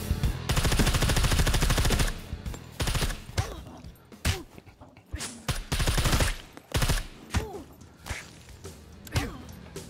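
Gunfire in the video game Scum during a base raid: a long, loud automatic burst, then choppy strings of shots and single cracks with brief gaps between them.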